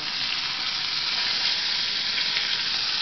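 Potato sizzles in a frying pan, a steady close hiss of frying that holds evenly throughout, with no voices.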